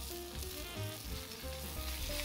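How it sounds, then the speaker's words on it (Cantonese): Chicken roll skin pan-frying in butter, a close, steady sizzle and crackle of hot fat, continuous with occasional louder spits and no talking. "咁樣煎起上嚟個雞皮就會更加香脆啦"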